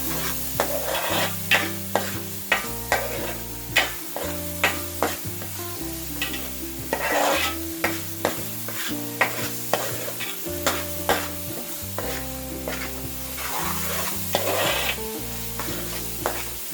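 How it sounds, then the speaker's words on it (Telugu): Crab iguru with turmeric and salt is stirred and fried in a pan, a spatula scraping in a steady repeating rhythm over continuous sizzling, with music playing underneath. "రుచికి సరిపడా సాల్ట్, బాగా వేయించుకోవాలి."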